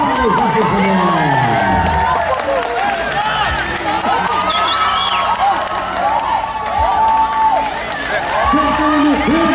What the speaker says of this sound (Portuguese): Isaac Samuel, cadê a salva de palmas?